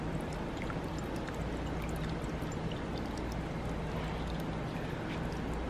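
Garden water fountain with blue-dyed water and LED lighting in an RV site, a quiet steady splash and trickle of falling water, continuous and fairly faint, with no voices.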